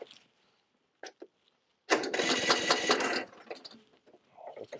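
A Kohler engine on a Husqvarna riding mower is cranked over with a rapid rhythmic churning that lasts over a second, then falls quieter. Short clicks and handling noises come before and after it.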